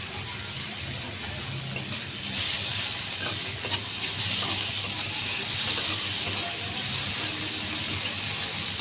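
Ginger garlic paste sizzles in a pan for a mushroom curry, a continuous close frying hiss with stirring scrapes that grows slightly louder partway through. No one speaks.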